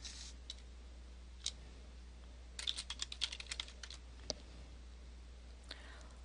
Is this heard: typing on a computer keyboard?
yes